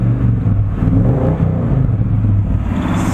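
A 1983 GMC K10 pickup's engine with a Quadrajet carburetor running steadily nearby, a low, even rumble with a slight rise in revs, heard alone for about three seconds.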